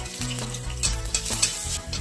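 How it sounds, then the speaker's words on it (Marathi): Garlic sizzles and crackles in hot oil in a pan while being stirred for a flaxseed chutney, a steady frying hiss close up with a few louder stirring scrapes and no talking. "आता थोडा लसूण भाजून घ्यायचं, त्याला कडक करून घ्यायचं."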